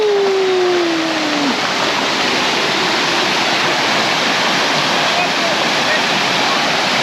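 Water rushes in a loud, unbroken roar as a stream pours over rocks at a waterfall in Georgia, with a brief faint tonal sound near the start.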